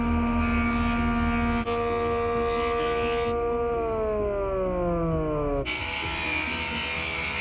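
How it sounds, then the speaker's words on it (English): A wood planer feeds a board through with a loud whining motor tone that steps and slides downward in pitch as the cut loads it, then cuts to a broad hiss near the end. "I run the board through the planer, that way it evens it up on both the top and the bottom."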